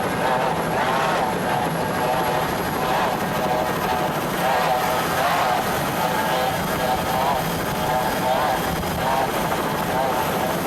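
Two 2.5 EFI outboard engines on S-Class racing powerboats roar steadily and loudly throughout, a sustained droning whine that holds without break while a commentator talks over it.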